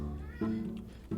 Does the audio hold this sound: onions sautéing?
no